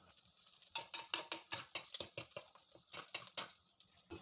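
Quarter teaspoon of fenugreek seeds added to hot oil in a pan with garlic and ginger while cooking Kerala mackerel curry, a quiet series of rhythmic scraping stirs and clinks of a utensil against the pan.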